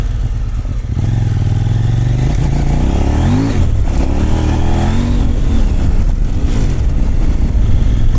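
A Kove 800 X Pro motorcycle being ridden, its engine revving loudly and close, with pitch climbing and falling through repeated throttle blips and no voices.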